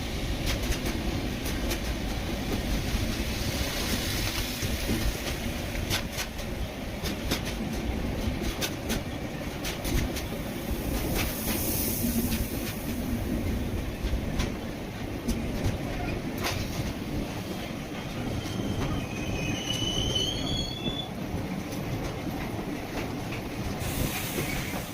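Superfast mail express train from Thiruvananthapuram Central to MGR Chennai Central running steadily on the rails, with continuous rumbling wheel noise, clickety-clack beats and a brief high squeal near the end, heard close from on board.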